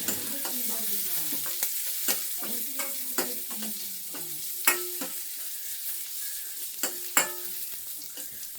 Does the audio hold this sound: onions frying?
yes